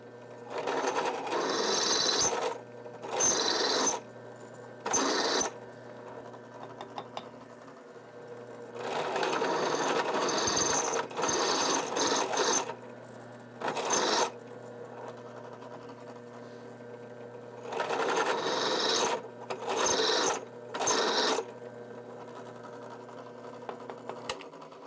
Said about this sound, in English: switch over to a little bit bigger drill bit and use it to be basically a countersink for each hole